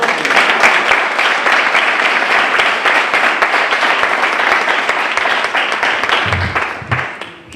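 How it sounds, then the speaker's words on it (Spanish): Dense, loud audience clapping fills most of the stretch, then tapers off near the end as a voice comes in. "Bueno, aplausos"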